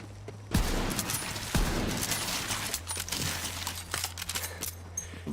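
Sniper rifle fire in Borderlands 3, two sharp cracks a second apart standing out over steady game music and ambient noise, followed by a softer shot later.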